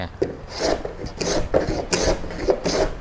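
Hand woodworking plane rasping along a piece of wood clamped on a sawing table, five or six close, rhythmic scraping strokes with short pauses between them and no talking.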